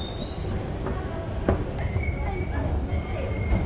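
An ITX-Cheongchun double-decker train bound for Chuncheon pulls into a station platform with a steady rolling rumble and high, thin wheel squeals, heard fairly close.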